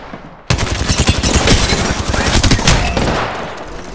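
Gunfire in a video game shootout: dense, loud, continuous rapid-fire bursts that keep going steadily and then ease slightly toward the end, with no talking over them.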